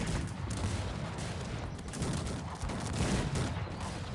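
Dense, continuous gunfire and rapid shots in a noisy battle in the video game Cossacks 3, sustained throughout with no pauses.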